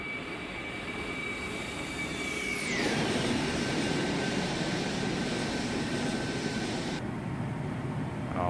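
An Airbus A310 airliner auto-landing in the X-Plane flight simulator makes a steady, loud engine roar throughout, with a high whine that falls sharply in pitch and later cuts off abruptly.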